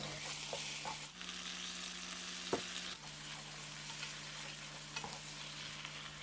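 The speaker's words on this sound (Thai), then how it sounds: "ยี้ให้กระจายกันพอหมูเริ่มสุกก็ปรุงรสด้วยน้ำตาลทรายซีอิ๊วขาวและน้ำมันหอยครับ" Pork stir-frying in a pan, seasoned with sugar, light soy sauce and oyster sauce, gives a soft steady sizzle with occasional faint scrapes of stirring. It is quiet and close, with no talking.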